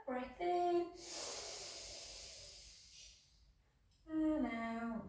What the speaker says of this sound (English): I tend to breathe in through my nose and out through my mouth